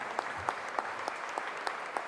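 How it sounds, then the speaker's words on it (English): An audience at an endowment lecture claps steadily, a dense even wash of applause with a few sharper individual claps standing out at regular intervals, moderately distant and with no talking. "A big round of applause"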